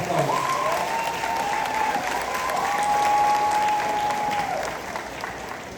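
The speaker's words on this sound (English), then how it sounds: "Let us show our full love and support with a thunderous round of applause." Thunderous audience applause at a high school graduation ceremony, a loud sustained roar of many clapping hands with a voice or tone held briefly above it, easing slightly toward the end.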